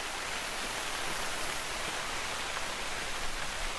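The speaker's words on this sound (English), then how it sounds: "This rain is..." Rain falls in the hunting game TheHunter: Call of the Wild, a steady, even hiss of rain with no breaks, moderately quiet and alone.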